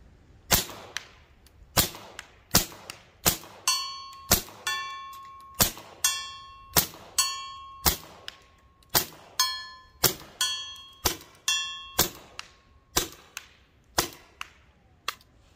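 A Goblin airgun fitted with a power barrel and running low on air fires homemade crystal skull cracker pellets at 30 yards, giving about sixteen sharp cracks at a steady pace, several followed by a ringing metallic ding from the target.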